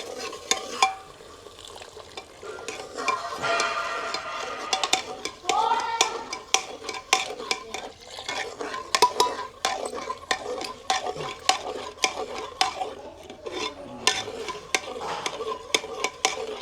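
Gram flour batter is poured into a simmering gravy in a village home kitchen and stirred, with rapid, repeated metal spoon clinks and scrapes against the pot over a soft bubbling sizzle.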